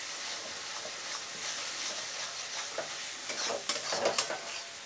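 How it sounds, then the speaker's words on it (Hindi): Dry spices, cumin powder and coriander powder, roasting in a pan for an oyster masala fry, giving a soft continuous sizzle with scraping stirs that grow louder and busier toward the end. "ड्राई मसाले डालने के बाद हम कुछ देर भूनेंगे"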